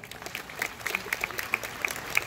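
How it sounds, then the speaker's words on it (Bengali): Audience applause at a Kolkata concert, a short burst of scattered, fairly close claps from a crowd lasting about two seconds. "রেডিওর জন্য একটা হাততালি."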